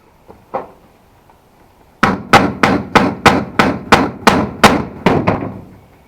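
A hammer strikes metal eleven times in a steady, evenly spaced rhythm, loud and close, after a couple of faint taps.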